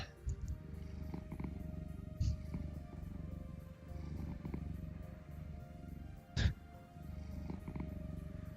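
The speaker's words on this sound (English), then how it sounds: "We'll pet the cat." A cat purrs steadily while being petted in a snowed-in visual novel, a soft, continuous rumbling in close pulses with a couple of brief bumps, quiet and alone.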